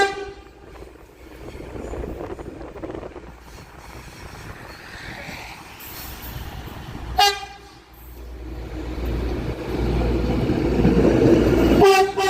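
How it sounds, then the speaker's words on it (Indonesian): A train rolls past on a railway line near Semarang, a steady rumble of wagons with two sharp horn blasts partway through, the roar building loud and close toward the end. "sekarang untuk kereta api masih melintasi jalur yang bawah ya"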